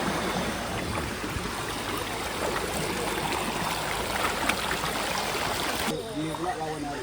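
Water flowing steadily in a stream at night at a Malaysian campsite, a constant broadband rush heard up close, with a faint splash or movement near the end.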